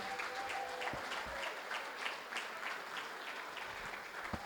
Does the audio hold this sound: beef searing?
no